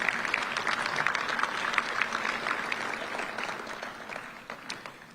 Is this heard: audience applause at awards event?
yes